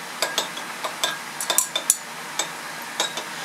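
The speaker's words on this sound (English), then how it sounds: "Go ahead and stir this." Stirring a hot silver tetraiodomercurate solution in glassware, a series of light, irregular metallic and glassy clinks and taps, close and crisp, with no talking.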